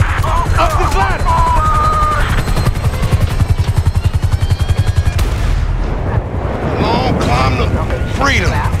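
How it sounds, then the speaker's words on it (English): In GTA 5 a helicopter chopper hovers overhead, its rotor thumping in a fast steady beat beneath bursts of gunfire and shouting voices, loud and close before easing off near the end. "We ain't going nowhere with that chopper on us!"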